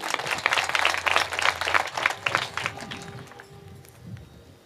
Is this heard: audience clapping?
yes